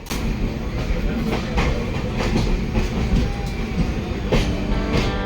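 The Rupashi Bangla Express rolls slowly through the Kharagpur outer section while changing lines, a steady close rumble of wheels with clickety-clack beats over track joints and faint squeals, heard from inside the coach without talk.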